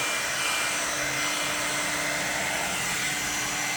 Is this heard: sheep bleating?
no